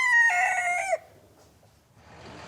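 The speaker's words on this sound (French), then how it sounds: "Qu'est-ce qu'on reproche aux coqs? Eh ben, qui font du bruit." A rooster lets out a single loud, close crow lasting under a second, followed by a quiet lull and then a rising wash of distant road noise.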